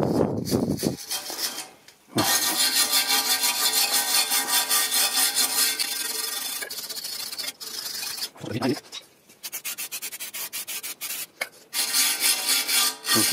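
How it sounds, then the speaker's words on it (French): Wire brush rasping against the rear brake disc of a Peugeot 307 SW 1.6 HDi 110 hp during a pad and disc change, in long continuous scrubbing bursts with brief pauses, loud and close. "je vais mettre un coup de brosse métallique comme je t'ai dit"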